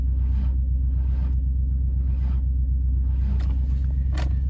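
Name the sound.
Ford Falcon engine cranking without fuel pump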